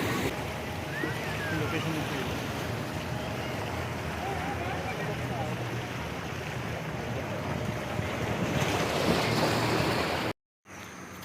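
Ocean surf at Anjuna beach in Goa makes a steady, full roar mixed with wind and faint voices in the background, then cuts out briefly near the end.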